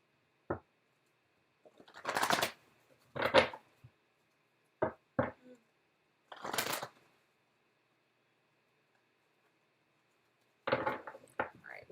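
Several separate bursts of tarot cards being shuffled close by, short riffling flurries with quiet pauses between them.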